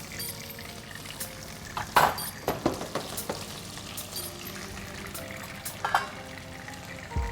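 Onions dropped into hot oil for a sweet potato and grilled lamb dish give a steady frying sizzle, with a couple of sharper bursts as pieces hit the pan, close and moderately loud.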